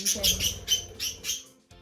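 A budgie screams during a night terror, letting out a rapid series of about six shrill, harsh calls close by.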